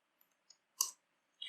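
A few isolated computer keyboard key presses, sparse sharp clicks with gaps between them, close and quiet in otherwise silent surroundings.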